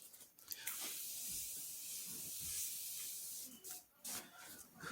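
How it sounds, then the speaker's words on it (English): Tarte setting spray misted onto a face in a makeup routine, a soft airy hiss of fine mist spreading across the clip, fairly quiet, with brief breaks near the end and no talk. "I am going to hit with a little bit more setting spray. This is the Tarte setting spray."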